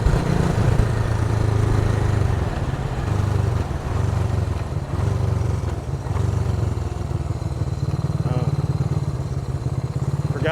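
A Honda CB360 motorcycle engine, a 360 cc twin running on only one cylinder, drones steadily while riding, a loud, rough, continuous rumble with wind noise and no talk over it.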